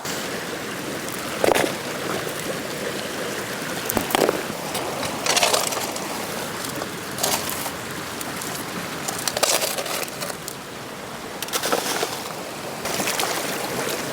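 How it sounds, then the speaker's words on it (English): A gold pan being rinsed in water while prospecting in Duluth: a continuous rush of moving water with intermittent sharper splashes and sloshes, close and fairly loud, with no talking. "Make sure I wash my pan so I'm not contaminating anything."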